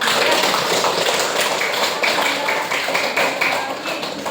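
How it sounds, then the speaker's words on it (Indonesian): Students in a ninth-grade mathematics classroom clap their hands together, producing a dense, lively patter of claps that carries on steadily for several seconds. "Ayo kita tepuk tangan untuk diri kita."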